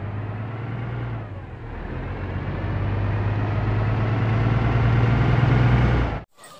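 A cartoon bus engine runs loud and close, a steady motor drone that dips briefly, then builds into a sustained revving roar before cutting off abruptly near the end.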